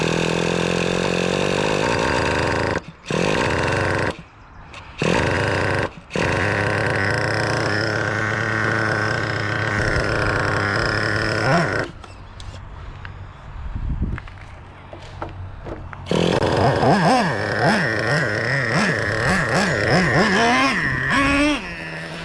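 The nitro engine of a Traxxas Revo 3.3 RC truck, on tank four of break-in, starts with a few short sputtering bursts, then runs loud and steady, its revs rising and falling in a wavering whine close by.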